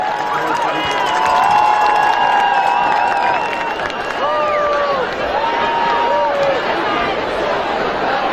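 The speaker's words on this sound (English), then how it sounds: "Let's have a nice round of applause for our" A football stadium crowd applauds and cheers the high school homecoming court, loud and sustained, a dense wash of clapping under a PA voice and scattered shouts.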